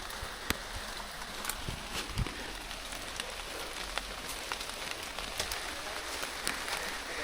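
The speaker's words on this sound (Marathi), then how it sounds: "पाऊस चालू झाला आहे पण आम्ही कोणी छत्र्या नाही आणल्या" Heavy rain falls steadily in a forest, a constant wash of hiss with scattered sharper drops tapping close by throughout.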